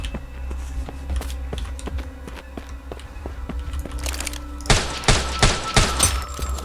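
Rapid gunfire in a zombie shooter game, a steady run of sharp shots under a low background hum, swelling into louder, denser bursts near the end.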